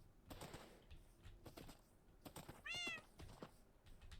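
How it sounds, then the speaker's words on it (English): A Minecraft cat gives one clear meow near the middle, standing out over scattered soft clicks and game noises, with no one talking. "We have our cat."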